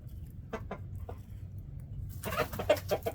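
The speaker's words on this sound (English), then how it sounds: "That's a beautiful chicken." Rooster clucking nearby outdoors in Girdwood, Alaska, a few soft scattered clucks at first, then a louder run of quick clucks and squawks toward the end, alone without talk.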